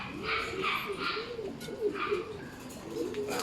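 Racing homing pigeons coo in repeated soft, rolling calls at a pigeon loft during a training toss, with occasional chirps, nearby and continuous.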